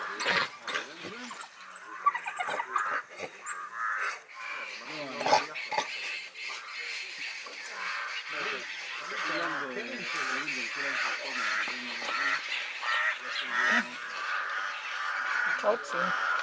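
A pack of African wild dogs feeds noisily on prey in the Kalahari Desert of Botswana, with constant twittering, whining squeals and yelps from several animals close by, mixed with people talking.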